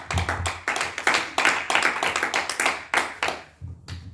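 A church congregation claps hands to acclaim the Lord, a steady rhythmic run of loud, close group handclaps with brief gaps, no voices on top.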